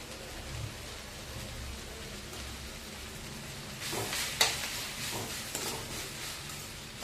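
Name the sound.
fenugreek leaves stir-fry (menthya palya) frying in pan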